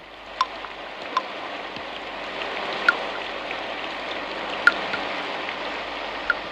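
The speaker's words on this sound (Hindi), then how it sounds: "बुढ़िया की झोपड़ी में पानी जगह-जगह से टपक रहा था।" Rainwater dripping through the leaky roof of a village hut during heavy rain: scattered single drips plink at irregular intervals over a steady background hiss of rainfall, with no voices.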